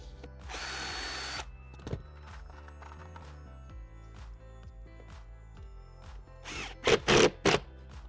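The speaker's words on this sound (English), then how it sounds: "I'll just put a screw in for the sake of trying." A power drill drives a screw into timber during a VW Caddy campervan conversion, with a long whirring burst near the start, scattered taps and clicks in between, and several short loud drill bursts close by at the end.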